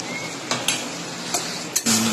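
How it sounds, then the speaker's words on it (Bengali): Fried potatoes are stirred into cooked mutton in a pot, with a few sharp spoon clacks against the metal over a soft background sizzle, close and without talk. "আমি ভেজে রাখা আলুগুলো এবার একটু দিয়ে দেবো"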